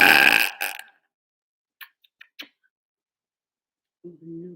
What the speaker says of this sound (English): Do you like my burps?